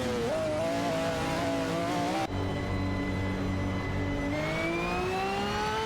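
Racing cars in a video game, a Cadillac against a Noble M600, give a loud steady engine drone that rises in pitch as they accelerate, with a gear shift partway through and no talk.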